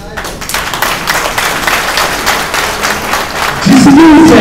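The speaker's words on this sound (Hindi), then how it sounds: "तालियां बज रही" Audience applause at a public lecture or commemorative event, a dense wash of clapping that holds steady and swells louder near the end, with a voice rising over it in the final moment.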